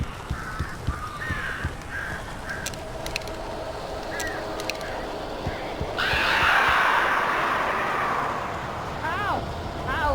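Crows caw in the video game Alan Wake, a series of harsh repeated calls, some near and some farther off, over a low rumbling background, with a louder whooshing swell partway through.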